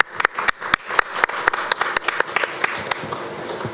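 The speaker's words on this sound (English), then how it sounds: "please applause for both keynote speakers who joined virtually" A conference audience claps for keynote speakers, with sparse, distinct individual claps at first that thicken into a modest, fairly close round of applause with no talk over it.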